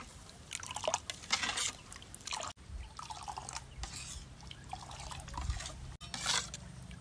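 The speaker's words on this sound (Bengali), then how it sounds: "সমস্ত মশলাটা জলের সাথে ভালো করে মিশিয়ে নিয়েছি।" Water being stirred together with spices like chopped onion, green chilli, coriander and sugar for mango pani puri, soft liquid sloshing and dribbling sounds repeating at close range, alone.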